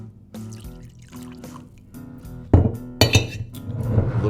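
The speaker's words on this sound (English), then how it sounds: "Little pour." Whiskey is poured from a blend bottle into a glass, a close liquid trickle with clinks of glass, starting soft and ending in louder splashing gurgles.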